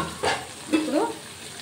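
Chicken tossed into a pan of fried onions, with a couple of short stirring scrapes and a soft sizzle, close and moderately quiet.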